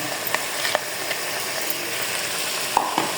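Chopped tomatoes drop into hot masala frying in a pan for a chicken gravy, a continuous close sizzle and crackle with a few sharp spatters and stirring clicks, no talking.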